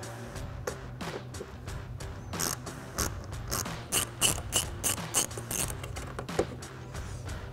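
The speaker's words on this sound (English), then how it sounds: "So we'll go ahead and pull that screw out." A ratchet with a T15 Torx bit backs a fender liner screw out of a 2016-2024 Chevrolet Camaro, giving a close, quiet run of rapid, steady clicks that grows slightly louder toward the end.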